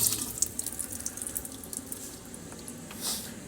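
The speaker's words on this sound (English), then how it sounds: "You can use some hot water, a little bit of cold water, and then wash your hands." A sink tap runs steadily with hot and cold water while hands are washed beneath it, a close, even splashing rush with brief drips and no talking.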